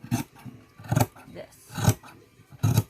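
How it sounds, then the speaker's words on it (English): Scissors cutting fabric for a custom pair of pants, four crisp snipping strokes spaced about a second apart, close and clear. "just going to notch a little hole right there and cut just like"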